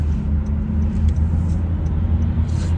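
A car driving over a rough road gives off a loud, steady low rumble heard from inside the vehicle, with a constant road-noise drone and faint higher ticks and rattles now and then.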